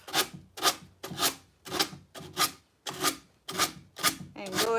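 Decoupage paper is trimmed from the edge of a drawer with a steady run of rhythmic scraping strokes, roughly two per second, close and moderately loud, with no talk.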